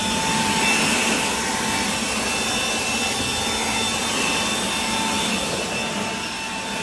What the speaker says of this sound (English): we're gonna use it, the M18 blower,